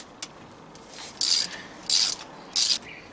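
A bolt on an engine bracket of an R32 GTR being loosened with a ratchet, giving three loud, close bursts of rapid clicking ratchet action, each about a quarter second long, after a faint tap.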